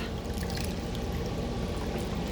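Water running steadily through an aquarium hang-on-back filter, its flow slowed by sponges and tubing, giving a continuous soft trickling wash with no voices.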